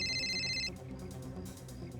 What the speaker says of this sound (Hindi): ये दिनेश क्यों फोन कर रहा है मुझे?